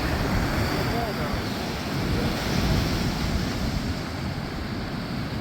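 Ocean surf rolls onto a beach as a loud, continuous roar of waves, with heavy wind buffeting the microphone throughout.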